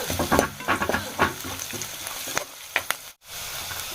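Spices with dry chili powder and salt being stirred in a frying pan, a spoon scraping in irregular strokes over a soft sizzle, close and clear with no speech.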